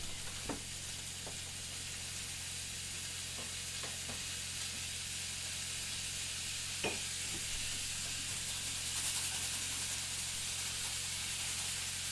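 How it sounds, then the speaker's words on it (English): Quiet, steady sizzling of ham steaks frying in a pan, a soft continuous hiss with occasional small pops and clicks. "We can get that nice sizzle right away."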